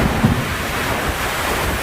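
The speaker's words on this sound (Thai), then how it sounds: "ทุกคนฝนตกลมแรงมาก" A strong wind and rain storm roars steadily as a dense broadband rush with gusty low buffeting against the microphone, continuous and close, with no voices.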